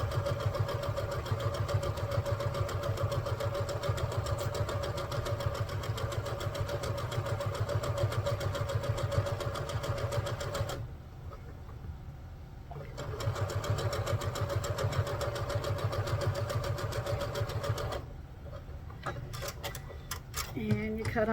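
Sewing machine running a quarter-inch seam through fabric, a steady mechanical whir with rapid stitching rhythm, paused briefly twice, with a person talking over it.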